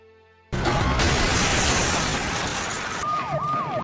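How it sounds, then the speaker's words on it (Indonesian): A loud police siren starts abruptly and wails continuously, close by, then switches to a rapid yelping pattern near the end. "Tak lama, suara sirene polisi terdengar."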